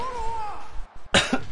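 A person coughs twice in quick succession, a sharp harsh burst followed by a shorter one, right after a brief stretch of voice.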